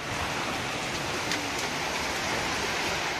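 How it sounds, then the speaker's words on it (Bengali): Rain falls in a steady, dense hiss, close and even throughout with no voices, during a spring shower in Sylhet. "এক পশলা বৃষ্টিতে ভিজল প্রকৃতি।"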